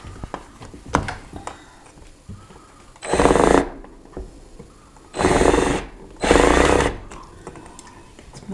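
A power drill runs in three separate bursts, about a second each, while window blinds are being installed indoors, loud and close with a buzzing whine, separated by quieter handling noises and light clicks.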